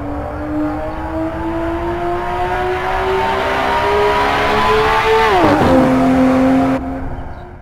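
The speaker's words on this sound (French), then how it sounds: "la BMW M3 E46 débarque en mode dans Assetto Corsa" A BMW M3 E46 racing the Nordschleife in Assetto Corsa, its engine revving steadily higher in a loud, close, climbing whine, then dropping sharply at an upshift before pulling again.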